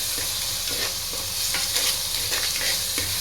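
Ripe tomatoes cook down in a pan for a crab curry, giving a steady close sizzle and frying hiss with soft stirring scrapes throughout, no voices.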